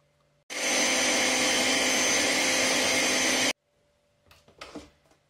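Watermelon sorbet mixture with lemon juice and sugar whirring in a blender, one loud steady three-second burst that cuts off abruptly, followed by faint clatter.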